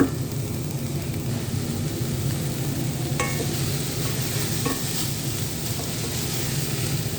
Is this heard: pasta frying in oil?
yes